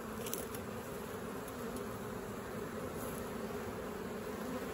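Honeybees buzz in a continuous, fairly faint drone around an open hive during an inspection, with a few closer passes standing out briefly.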